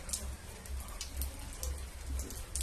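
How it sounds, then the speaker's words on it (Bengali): Light rain patters softly and steadily, with faint dull thumps underneath and no voices. "দেখতে পাচ্ছ তো, বৃষ্টি হচ্ছে"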